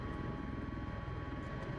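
A simulated MV-22B Osprey tiltrotor cruising in airplane mode in Microsoft Flight Simulator, a steady close engine and rotor drone with a constant tone, filling the cabin evenly throughout.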